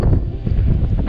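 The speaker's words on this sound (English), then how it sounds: "It's windy." Loud wind buffets a microphone in constant low rumbling gusts, filling the whole moment with no other sound.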